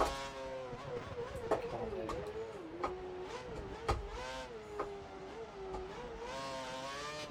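Force India Formula 1 car engine in the F1 2013 racing game as it enters the pit lane at the Japanese Grand Prix, a steady high-pitched whine whose pitch wavers up and down with short sharp clicks throughout.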